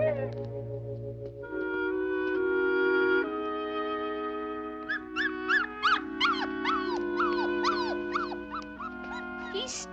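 A small puppy whimpers and cries at night, a string of high, wavering yelps and whines over soft background music.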